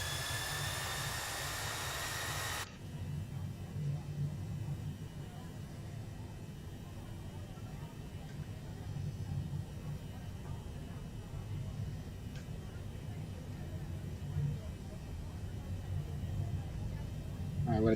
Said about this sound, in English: All right, I'm gonna depart.